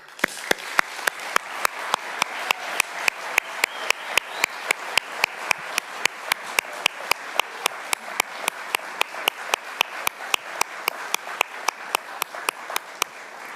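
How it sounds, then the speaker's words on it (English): Sustained audience applause for young scientists at the LISE 2023 event, a dense steady patter of many hands clapping, fairly loud and close, with no talk over it. "please, a big round of applause for all the young scientists"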